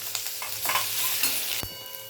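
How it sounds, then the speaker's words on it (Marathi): Chopped onion sautés in a pan for a masoor dal curry, sizzling steadily while a spoon scrapes and stirs it. One sharp knock sounds near the end, and no one speaks. "कांदा चांगला परतून घ्यायला लागेल।"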